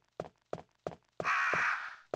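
Crows cawing in a Resident Evil video game, a few short harsh caws spaced in a steady rhythm, then one longer drawn-out croak, loud and close with no talk over them.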